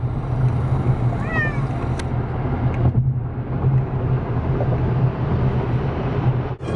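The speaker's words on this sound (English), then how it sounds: "Cats have semi-calmed down" Cats meowing inside a moving truck during a long road trip through Nebraska, a few rising meows early on over a steady loud road and engine drone.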